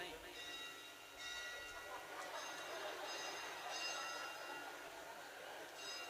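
A bell rings with a sustained, ringing tone that swells and fades over a low rumbling background, with faint voices nearby.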